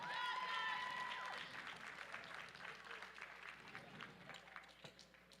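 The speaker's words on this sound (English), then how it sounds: "One more round of applause for the boys." Applause from an audience at a powerlifting medal ceremony, a dense wash of clapping from an indoor crowd, loudest at first and then tapering slightly, with some voices mixed in.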